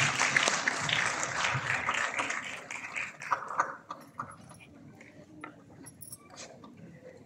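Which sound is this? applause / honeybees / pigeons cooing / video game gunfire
applause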